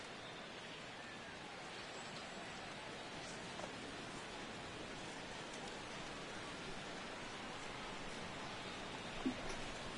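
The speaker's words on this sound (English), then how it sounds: "And this rain is intensifying now. This is as hard as it's come down all night." Heavy rain pours steadily over a baseball stadium in MLB The Show 16, a soft, even hiss with no breaks that stays faint and constant in the background.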